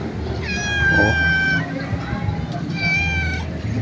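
A cat meows twice outdoors, two drawn-out calls separated by a short pause, close and fairly loud over a low background hum.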